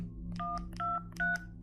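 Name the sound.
telephone dialing tones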